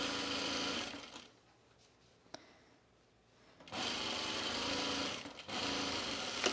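A sewing machine stitches the side seam of a pullover camp dress in two bursts of steady, close whirring, separated by a quiet pause with a small click.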